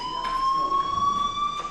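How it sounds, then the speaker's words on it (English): A fire alarm sounds in the video game Life is Strange, a steady high electronic tone with a faint pulsing beneath, moderately loud and alone. "Hey, do you hear that fire alarm? That means you should be outside."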